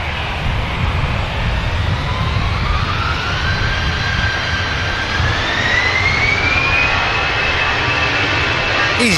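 An EasyJet jet airliner departs Manchester Airport for Bari, a steady loud engine roar with a slowly rising whine as it throttles up and climbs, heard from a distance alongside intermittent talk.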